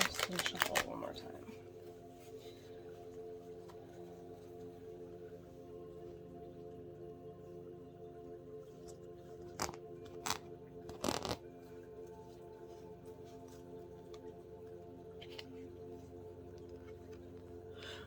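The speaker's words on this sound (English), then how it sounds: "I'm just going to shuffle one more" Tarot cards are shuffled for a reading. There is a brief soft riffle at the start, then a few faint card snaps later over a quiet, steady room hum.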